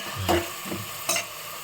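Cinnamon and cloves sautéing in a hot pan for a mushroom biryani, with a few close scraping stirs over a steady soft sizzle and no voices.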